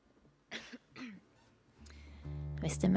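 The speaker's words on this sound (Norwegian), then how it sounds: "Jeg tror det er denne her røyken jeg står oppi som gjør at jeg må hoste hele tiden." Someone standing in smoke coughs in short bursts, several harsh coughs and a throat clearing spaced across a few seconds, close and fairly loud, followed by a rising hum of music or background noise at a house party.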